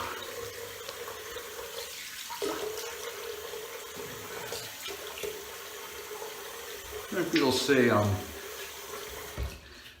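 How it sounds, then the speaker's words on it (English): A tap runs water into a sink for a cold rinse during a wet shave. The flow is moderate and continuous beneath ongoing talk, with a louder, splashier surge near the end. "they hate a cold water rinse."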